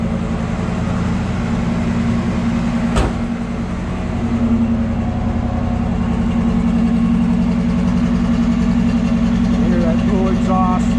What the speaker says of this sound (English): get out, hear the exhaust and the engine.